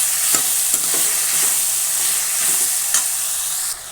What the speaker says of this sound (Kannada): ಕೊನೆಯಲ್ಲಿ ಟೊಮೊಟೊ ಹಾಕ್ತಾಯಿದ್ದೀನಿ. ಇದು ಕೂಡ ಚೆನ್ನಾಗಿ ಮಿಶ್ರಣ ಮಾಡಬೇಕು.